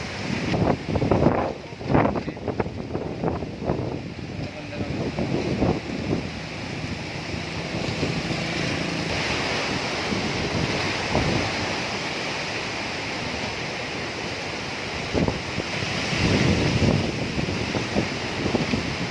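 Strong wind roaring outdoors, a steady broadband rush with heavy buffeting gusts near the start and again toward the end.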